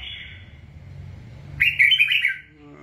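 A caged red-whiskered bulbul sings close and loud: a long thin whistle, then a brief lull, then a quick bright burst of warbling chirps, alone with only a faint low hum.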